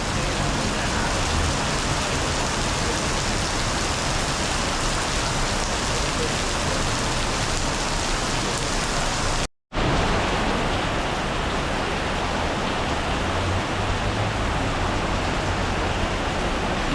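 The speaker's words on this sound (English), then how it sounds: "But it's raining even harder." Heavy rain pours steadily as a loud, dense hiss that continues almost unbroken, cut by one brief silent gap partway through, with no voices.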